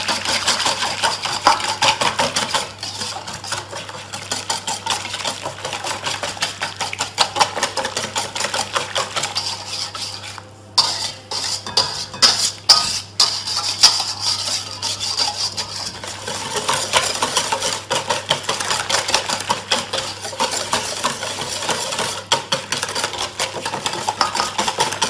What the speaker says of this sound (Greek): Παίρνουμε το σύρμα και τα ομογενοποιούμε πολύ καλά.